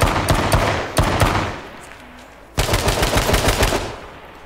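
Video game gunfire in dense automatic bursts, loud and close, pausing briefly around the middle and then resuming in rapid rattling volleys, with no voices over it.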